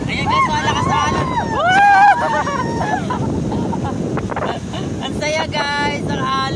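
Strong ocean surf and gusting wind at a beach in Quezon Province, roaring loudly and continuously close by, with wind buffeting the microphone and chattering voices of a group of people heard throughout.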